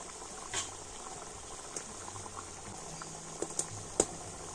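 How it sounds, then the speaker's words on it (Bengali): Pitha cakes deep-fry in hot oil over a low flame, a soft steady sizzle and bubbling with occasional sharper crackles and pops, close and quiet, without talk. "দুবার ধরে পিঠেগুলোকে ভেজে নেব।"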